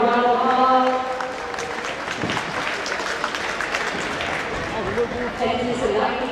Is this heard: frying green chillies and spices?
no